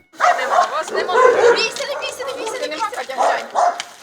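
A dog barks and whimpers close by, mixed in with people talking outdoors.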